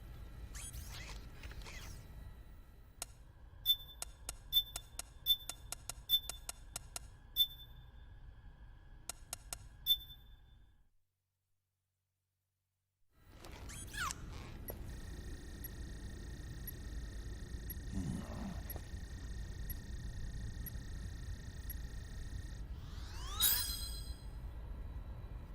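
Code punched into a keypad in Metal Gear Solid 4 on PS3: a run of short electronic beeps at irregular spacing, a silent gap, then mechanical whirring and a sustained tone, quiet and without talk.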